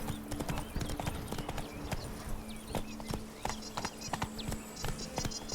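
Roach the horse galloping in The Witcher 3, a close, rapid, rhythmic clatter of hooves repeating steadily throughout.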